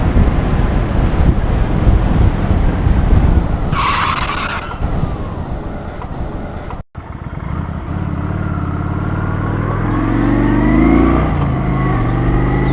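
A Kawasaki Vulcan 900 cruiser motorcycle runs steadily at speed, its engine drone mixed with heavy wind rush across the whole stretch, with a brief burst of hiss midway and a short dropout before the riding noise resumes.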